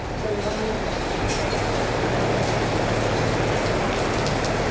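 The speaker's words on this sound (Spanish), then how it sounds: "Así con la lluvia que pues ahorita ya se nos vino." Steady rain falls at an outdoor sound system setup in Santa María, making a continuous, dense hiss throughout, with faint voices in the background.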